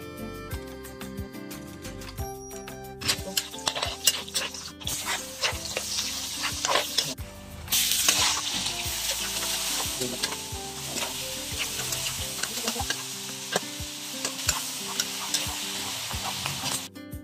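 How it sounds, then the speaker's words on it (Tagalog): Fish, first boiled in vinegar, sautés in a pan with a loud, steady close sizzle and repeated stirring and scraping of a utensil against the pan throughout. "At pagkatapos pakuluan ng suka, ay igigisa muna niya."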